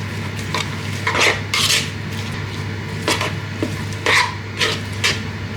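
Grilled Philly steak salad gets tossed with mayonnaise in a bowl, with repeated scraping and clinking strokes of a utensil against the bowl in an uneven rhythm, close and fairly loud.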